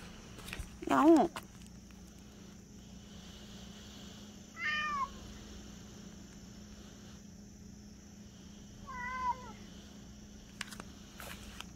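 A stray cat meows three times, the first call louder and closer, the others spaced several seconds apart over a quiet, low background hum.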